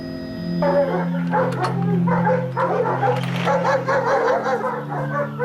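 Police dogs from Manchester's dog squad bark, yip and whimper excitedly before a search on the moors, close and continuous, over a steady low engine or vehicle hum.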